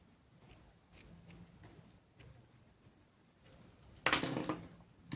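Scissors snip through yarn while finishing a crochet crow's-foot stitch pattern, giving one loud, crisp cut near the end after a few soft handling taps and rustles in an otherwise quiet room.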